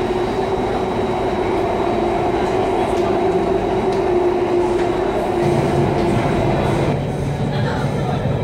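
Driverless Singapore MRT subway train running underground near Harbour Front, a steady loud rumble and roar of the carriage with rail noise throughout and a faint announcement voice in the background.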